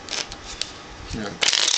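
A deck of playing cards shuffled during a beginner magic trick: a few soft, brief riffling flicks up close, then a denser, louder burst of card shuffling at the end.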